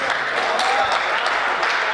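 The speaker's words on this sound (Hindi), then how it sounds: "तालियां कमजोर है" Audience clapping at a patriotic poetry recitation about Operation Sindoor and the Indian army, a moderately loud, even patter of many hands lasting throughout.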